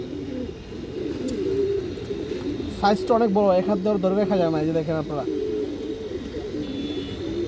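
A male Maxi racer pigeon coos in a burst of rolling, repeated calls midway, close by, while someone talks over it nearly the whole time.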